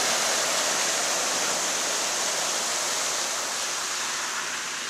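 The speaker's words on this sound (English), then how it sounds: "There goes a car coming right through it." Car driving through several inches of floodwater on a city street during a storm, heard as a continuous loud broadband wash and spray of water filling the clip, no voices.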